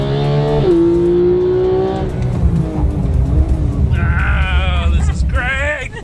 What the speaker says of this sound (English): it's going to try and get off the line as quickly as it can with minimal wheel spin